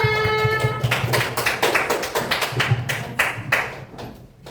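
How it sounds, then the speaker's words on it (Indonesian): A classroom of students applauds for group 2: dense, steady clapping from many hands nearby, fading toward the end. "Berikan tepuk tangan untuk kelompok 2."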